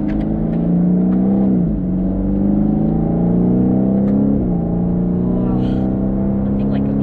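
A 2019 BMW 8 Series V8 engine revs loud and close from inside the cabin, exhaust valves open, its deep harmonic drone climbing and dropping twice as gears shift, with no voices over it.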